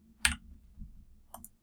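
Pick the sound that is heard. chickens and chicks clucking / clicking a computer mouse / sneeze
clicking a computer mouse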